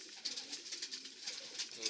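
Soft, repeated pigeon coos sound close by against a faint background hiss, with no talking.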